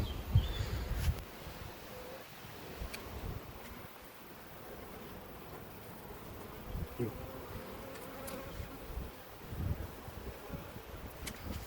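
Honey bees buzz around a nucleus hive during queen-rearing work, a soft continuous hum of many insects close by with faint handling noises, no talking.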